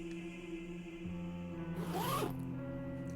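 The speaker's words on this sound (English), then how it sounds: "the zip makes a familiar zzz sound" A body bag zipper is pulled open in one smooth, close rasp lasting about half a second, set against a steady low hum.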